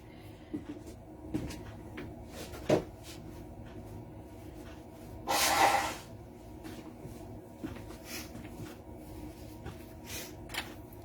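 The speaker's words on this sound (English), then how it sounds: "Had to blow my nose again." A short, breathy nose blow, loud and close, lasting about a second amid quiet handling and tapping noises.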